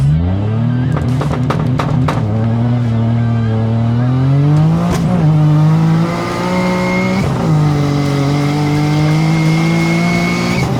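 A modified Perodua Kancil engine with boost revs hard on launch control, a loud, sustained close engine note that climbs and holds, broken by sharp pops and rev shifts, with no talking.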